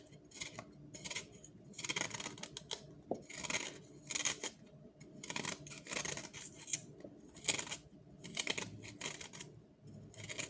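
Ginger with the skin left on being cut up, a quiet run of repeated snipping and crunching cuts in an uneven rhythm, close and faint, with no talking.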